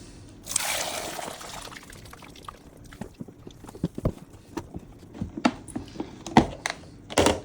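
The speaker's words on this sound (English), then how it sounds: "Shut it, and then strain the pasta." Pasta is strained through a microwave pasta boat, with an initial splashing pour of water followed by scattered dribbles, drips and small plastic clicks, close and fairly quiet.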